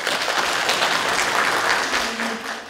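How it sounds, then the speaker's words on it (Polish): Applause at the opening of a kindergarten event, a loud, full crowd clapping steadily and close by, with no speech on top. "Wielkie brawa dla was."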